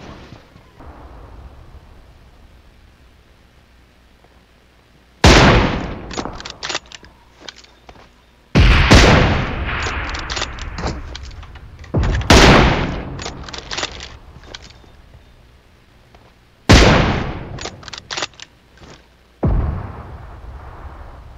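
Gunfire from a mix of submachine guns and bolt-action rifles in the battle royale game PUBG Mobile, in several loud bursts of rapid shots with a few sharp single cracks between them, separated by short quieter gaps.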